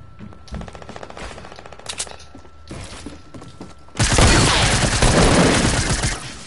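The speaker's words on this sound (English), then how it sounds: "Shotguns." Gunfire from a Fortnite match, with shotgun blasts among the shots: scattered sharp reports and clicking give way to a loud, sustained burst of rapid fire and crashing impacts, heard with no talk.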